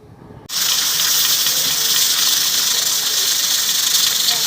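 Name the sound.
steam hissing from covered pot cooking chana pulao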